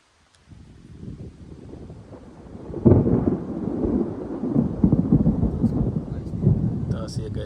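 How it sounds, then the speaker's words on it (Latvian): A thunderstorm with a low continuous rumble of thunder and rain, swelling louder partway through and staying heavy, with wind noise buffeting the microphone outdoors near a pond. "Un kārtīgs negaiss kaut kur."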